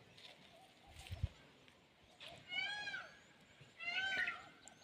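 Loud, rising wailing calls from a peacock on a dry hillside ring out twice in the second half, each stretched and nasal. A faint thump comes before them over quiet outdoor background.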